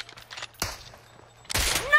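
Gunshots in a GTA roleplay game: one sharp blast near the start of the short burst and a second, louder crack toward the end, followed by a ringing, falling tail.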